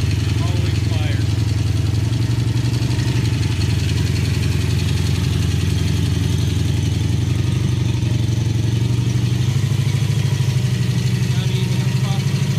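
A Triumph Speed Four motorcycle engine runs at a steady, close mid-pitched idle after starting, loud and continuous throughout, with a voice heard over it.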